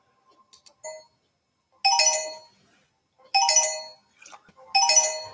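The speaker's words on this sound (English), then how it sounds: "All right, I'm going to ring a bell." A small hand bell rings three times at even intervals, each stroke bright and metallic with a decaying ring, heard close and alone after a few faint taps.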